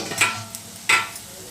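Urad dal vadas deep-fry in hot oil, giving two short bursts of crackling sizzle against a quiet, low hiss, with no talking.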